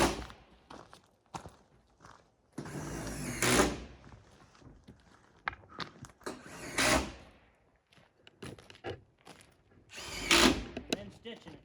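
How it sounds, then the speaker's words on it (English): Power drill driving screws through the overlapping seams of a metal roof on an off-grid cabin, three loud bursts of whirring and rattling each lasting about a second, with footsteps and knocks on the metal between them. "That's where you put the screws in on the part where the metal overlaps."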